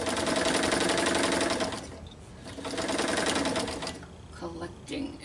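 A sewing machine runs at speed stitching fluffy, stretchy fleece fabric, its rapid steady whir dropping into a lull, then resuming in shorter bursts with faint talk underneath.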